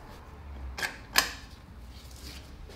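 A socket wrench on the 27 mm front crankshaft bolt of a BMW 545i E60 gives two quick, faint metallic ratchet clicks about half a second apart, close by in an otherwise quiet workshop.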